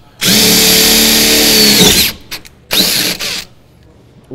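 A power drill whirs loudly and up close in one long burst, then stops, then runs again in a shorter spurt while a van lock is being installed.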